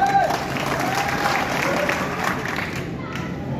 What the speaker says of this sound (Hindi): ताली नहीं बजाएंगे तो अच्छा रहेगा, बात का तसल्सल खत्म हो जाता है।